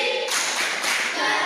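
Schoolchildren in a classroom do tepuk konsentrasi, a group clapping routine. A thick, continuous wash of many hands clapping at once stays loud and near, with slight surges in intensity.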